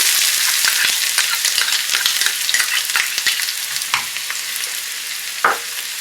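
Onions and ginger garlic paste fry in a hot pan on high flame, a loud continuous sizzle with crackles and occasional stirring scrapes, no voices.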